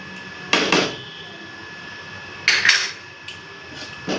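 A metal spoon stirring ground nutmeg into curry gravy in a pot while cooking paneer, giving a few sharp clinks and scrapes against the pot separated by quiet pauses over faint room hum.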